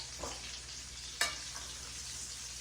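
Chicken for chicken Parmesan fries in oil with a steady, close hiss of sizzling, broken by one sharp pop partway through, and no voices.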